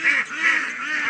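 Ducks crowded in a village duck pen quack and honk together in a loud, continuous, nasal chorus, close and without talk.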